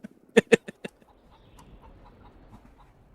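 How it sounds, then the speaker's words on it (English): Chickens in a coop in the video game Fallout 76 give a quick burst of four or five sharp clucks near the start, followed by a faint, low, murmuring background. "I got little chickens. My chicken coop."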